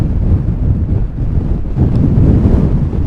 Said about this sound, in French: C'est le vent qui la pousse jusqu'à là-bas